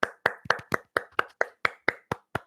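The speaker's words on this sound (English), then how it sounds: "Golf claps." Light golf claps from a single pair of hands, about a dozen crisp, evenly spaced claps, close and alone.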